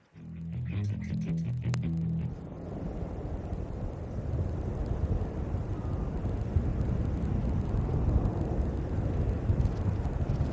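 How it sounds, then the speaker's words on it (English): Military helicopters flying low at the nape of the earth into a combat zone during an air force exercise at Pokhran, heard as a broad, wind-blown rumble that builds and holds steady after a brief tonal burst at the start. "Try to spot these helicopters sneaking into the combat zone undetected, flying at the nape of the earth"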